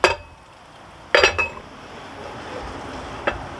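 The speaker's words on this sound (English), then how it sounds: "we're going to go ahead and put the lid on top of this chili" A lid goes onto a pot of chili with a few sharp metallic clinks: one at the start, a clattering pair a second later, and a lighter tap near the end, over a quiet room.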